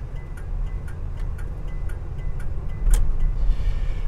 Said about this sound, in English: The only noise you hear is the old school turn signal blinker.